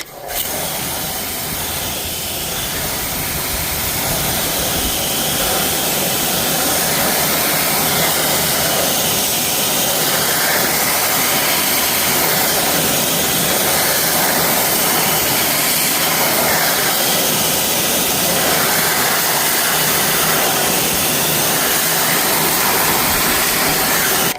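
A Kranzle pressure washer sprays the wheels of a 2016 Mercedes-Benz E63s with a loud, continuous, close hiss that holds steady with no break.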